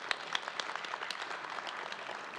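Audience applause at a university Founders Day ceremony: dense, steady clapping from a crowd, with sharper nearby claps standing out, moderately loud and continuous throughout with no talking.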